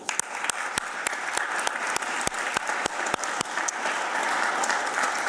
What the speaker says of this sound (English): we give him an applause.